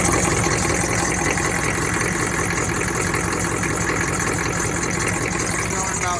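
A 6.5 diesel engine idles steadily with a fuel pressure gauge fitted, a dense constant rumble with low throbbing pulses, loud and close throughout.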